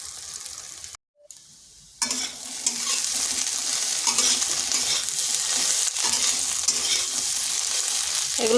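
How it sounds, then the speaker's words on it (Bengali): Egg and soybean pieces fry in a pan with a loud, continuous sizzle and occasional stirring scrapes, close up, after a brief quiet gap near the start. "এবার ডিম আর সয়াবিনটা ভেজে নিচ্ছি"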